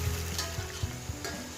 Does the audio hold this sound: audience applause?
no